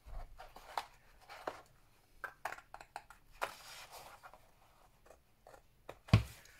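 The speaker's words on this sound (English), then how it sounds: "I'm going to cut up that line just to the score line" Paper being cut up to a score line while making a handmade journal folio, a series of short, quiet scraping and snipping strokes at close range, irregular and unhurried, with no talking.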